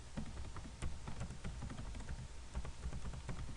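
Rapid, steady typing on a computer keyboard, close and clear, with a continuous patter of key presses and no voices.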